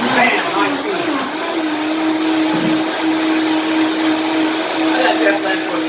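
Vitamix blender running at high speed, blending a smoothie; a loud, steady motor whine with a sustained hum holds throughout without a break, close to the microphone.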